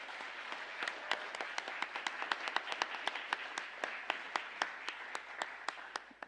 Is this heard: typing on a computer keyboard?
no